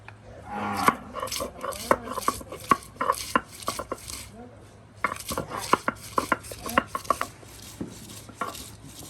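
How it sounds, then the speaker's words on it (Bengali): Taro (kochu) being finely chopped with a knife in an outdoor home courtyard kitchen, producing a steady run of sharp, close knife taps on a board, irregular in rhythm, with a faint low hum underneath. "কচুগুলো আপনার কুচি করে নেওয়া হচ্ছে, একদম কুচি কুচি করে নিয়ে।"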